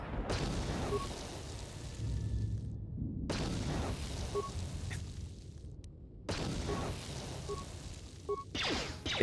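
Video game grenade blasts, several booming explosions with gunfire-like crackle between them and short silent gaps, loud and close.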